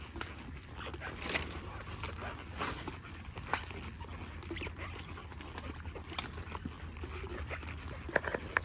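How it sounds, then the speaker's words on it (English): Dogs whimpering and stirring in a fenced area out in a swamp, faint and intermittent over a steady low outdoor hum, with no talk. "I hear the dogs."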